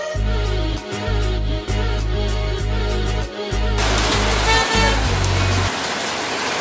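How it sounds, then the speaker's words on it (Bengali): Heavy rain in Bolpur near Santiniketan. A dense, steady hiss swells loud in the second half after a stretch of rhythmic low thumping. "এই দেখুন কি বৃষ্টি।"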